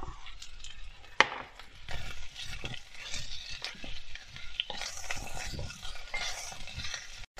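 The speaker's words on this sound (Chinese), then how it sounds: "今天的重点是洋葱，把洋葱也是稍微炒一炒。" Onion and carrot are stir-fried in a clay pot, with close, uneven scraping and stirring strokes over a soft, low sizzle and one sharp clack near the start.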